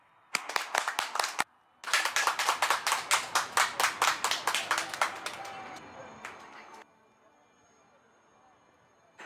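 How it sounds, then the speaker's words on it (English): A large outdoor crowd at an Indian Air Force air show on Marina Beach in Chennai claps in a steady, rhythmic beat. The loud, unison claps break off briefly, resume, then fade into a low background murmur. "Big round of applause to you, please."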